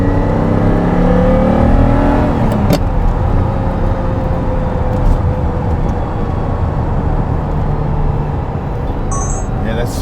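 Ferrari 512 TR engine pulling hard in third gear, a loud continuous rising roar heard from inside the car, steady for the whole stretch with no talking.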